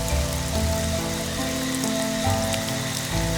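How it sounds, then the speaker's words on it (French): Heavy rain pours steadily in a forest, a dense continuous hiss with low rumbling underneath and faint drips, close and unbroken throughout, backed by soft music. "il se mit à pleuvoir abondamment"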